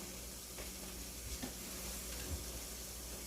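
An egg, cheese and potato omelette cooks in a pan after being flipped, giving a soft, steady sizzle at low volume with a few faint scrapes and bumps.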